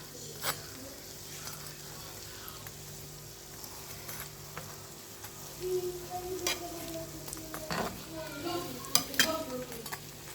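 Six Nigerian egg rolls fry on low heat in a big fry pan, giving a steady, hissing sizzle throughout, with occasional utensil clinks and scrapes growing busier toward the end, close and moderately loud, without speech.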